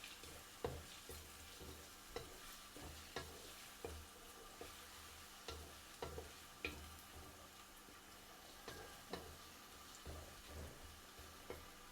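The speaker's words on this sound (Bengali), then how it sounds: "তো পেঁয়াজটা ভাজা ভাজা হোক" Onion frying in oil with cardamom, cinnamon and bay leaf for a home-style country chicken bhuna, a steady soft sizzle broken by regular scraping stirs and light ticks from the pan, fairly faint and with no talk.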